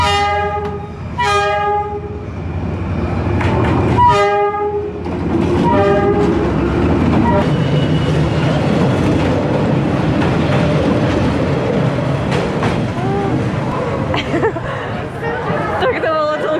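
A train rolls through Hanoi's narrow train street, sounding several loud horn blasts at the start before its wagons rumble and clatter past very close, with people chattering underneath.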